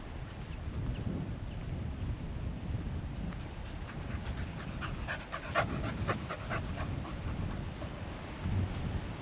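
A working dog pants steadily outdoors during a pheasant hunt, the quick breaths close and fairly soft over constant wind and field noise, growing busier toward the middle.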